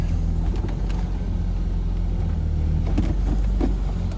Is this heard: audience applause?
no